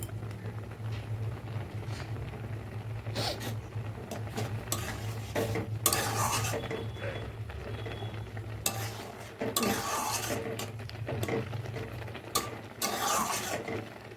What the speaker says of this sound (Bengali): এবার এতে আমি একটু হলুদ গুঁড়ো মিশিয়ে দেবো।